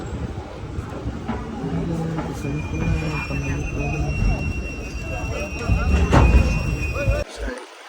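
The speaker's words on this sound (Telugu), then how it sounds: "కాటిపడి స్టేషన్ నుంచి ట్రైన్ అయితే డిపోర్ట్ అయితే వెళ్తుంది అనమాట" A train pulling out of Katpadi station heard from on board, a rumbling roll with faint wheel squeal and someone talking over it before it cuts off.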